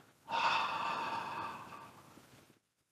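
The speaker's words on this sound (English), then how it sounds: "Breathing out" A single long, breathy exhale during a slow qigong exercise, the Lifting Sun and Moon pattern, rising quickly and fading gradually over about two seconds before silence, close and soft with no talking.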